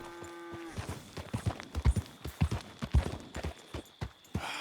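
Horse hooves clip-clopping in the video game Red Dead Redemption 2, a steady run of close, loud hoof strikes that follows a brief tonal whinny-like sound at the start.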